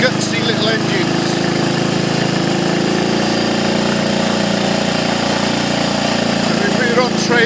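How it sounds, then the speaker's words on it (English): A Triumph Tiger Cub motorcycle engine runs steadily during a ride on country lanes, giving a continuous close buzzing thrum with a throbbing, jackhammer-like edge while someone talks over it. "Tiger Cubs have got very gutsy little engines."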